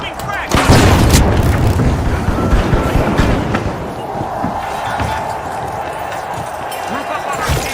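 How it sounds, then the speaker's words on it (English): A frag grenade bursts with a heavy boom in the arena shooter The Finals, loud and close, followed by a busy rumble of footsteps and effects with game voices talking throughout. "Incoming frag!"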